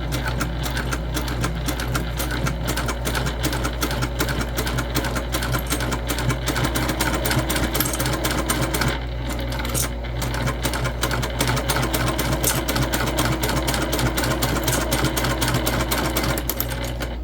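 A sewing machine runs steadily, stitching a clutch bag closed about an eighth of an inch from the bottom edge, a continuous close mechanical whir with a brief dip partway through.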